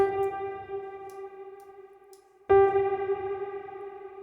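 A sustained synth-like tone swims in a lush, wavering Valhalla Supermassive modulated reverb, then a fresh note strikes midway and blooms into the same shimmering, moving wash.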